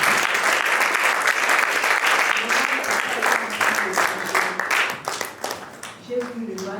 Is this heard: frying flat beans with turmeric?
no